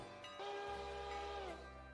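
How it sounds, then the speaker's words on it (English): A passenger train pulls away in the railroad simulation game Railroader, sounding a sustained, rich horn over a low, steady rumble of rail noise, with no talking. "So let's get the passenger train out of here."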